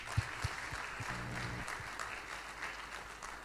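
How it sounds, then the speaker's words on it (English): An audience applauds at a brand launch event, quiet and somewhat distant clapping that holds steady for a few seconds, with a couple of low thumps and a brief hum near the start. "so we can also give her a round of applause"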